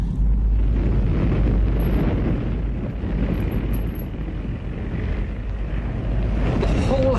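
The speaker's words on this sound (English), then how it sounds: "The whole house was blazing." A house blazing in a fire gives a loud, continuous roar and rumble, unbroken for the whole stretch with no voices.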